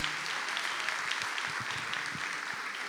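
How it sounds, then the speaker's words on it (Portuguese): A church congregation applauds at a worship service, a steady, moderately loud burst of mixed clapping that carries evenly throughout without talk. "Você pode aplaudir a Jesus mais uma vez?"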